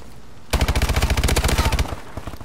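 Automatic gunfire in Call of Duty: Advanced Warfare multiplayer Search and Destroy: after a short quiet moment comes a loud, rapid burst of close shots that lasts nearly two seconds before tailing off.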